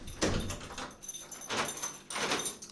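A house door being opened on the way to school, with a few clunks and rattles of the latch and frame, close and fairly quiet, and no voices.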